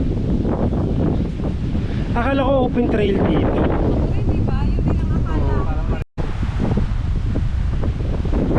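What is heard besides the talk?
strong wind on microphone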